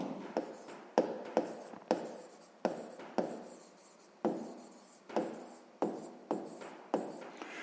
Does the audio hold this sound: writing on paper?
yes